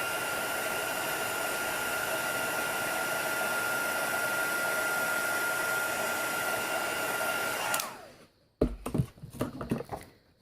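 A heat tool used for heat embossing blows hot air in a steady, loud whir for about eight seconds, then cuts off, leaving a few faint handling clatters.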